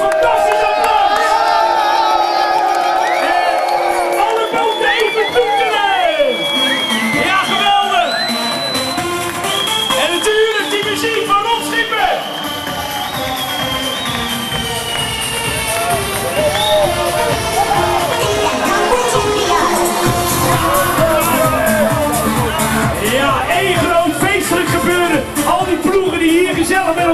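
Loud crowd along the quayside at a Dirty Boat Race prize ceremony, with sustained cheering, yelling and whooping that hold strong throughout and dip briefly midway.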